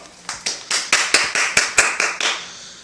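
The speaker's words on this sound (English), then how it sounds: "You hear the clapping in the background." A person claps about ten times in a steady, even rhythm, close and fairly loud, with nothing else heard around the claps.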